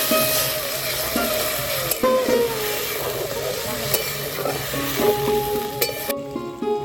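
A measured splash of water goes into spiced masala frying in oil for a village-style parshe fish curry, bringing a loud, continuous sizzle and bubbling with occasional utensil scrapes, close by, which stops abruptly near the end.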